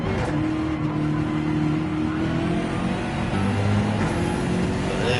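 BMW race car in a sim racing game, engine droning steadily at high revs with a continuous close whine and no pauses.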